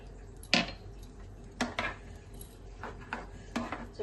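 Rice flakes and semolina batter with Eno mixed in a bowl, a few distinct clinks and scrapes of a utensil against the dish at irregular intervals, close and without talk.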